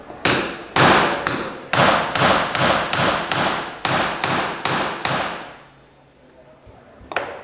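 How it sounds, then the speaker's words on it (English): A hammer drives nails into pieces of timber for a butt joint, a steady series of about a dozen sharp, ringing blows at an even rhythm, close and loud, then a pause and one last strike. "I'm letting the hammer do the work."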